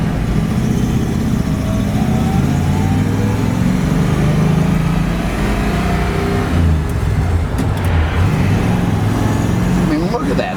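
The engine of a 1956 Dodge Custom Sierra Wagon drones steadily while driving, a loud close cabin rumble that rises in pitch as it accelerates, with someone talking over it.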